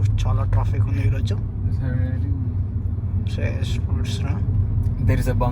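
Road traffic rumbles steadily on a busy street in the UK, with cars passing close by under ongoing conversation among friends.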